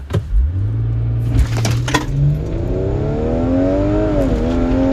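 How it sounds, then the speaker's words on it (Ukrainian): An Audi SQ5 (8R) engine roars as it accelerates hard in dynamic mode with stability control off, the pitch climbing steadily through the gears with a brief dip near the end, loud and close. "Спробуємо, як вона розганяється"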